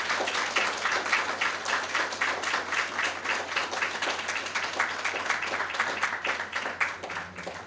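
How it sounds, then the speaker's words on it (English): An audience claps at a Saint Lucia education ceremony honouring students' ACT exam results, a sustained, rhythmic round of applause from a medium-sized crowd, close and fairly loud, tapering slightly at the end. "I invite you to applaud them for their excellent performance on the ACT exam"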